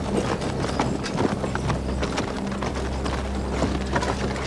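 Horses' hooves clip-clop loudly and steadily, several animals in a dense overlapping rhythm, mixed with occasional clanking of tack or gear.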